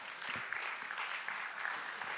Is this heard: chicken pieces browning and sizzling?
no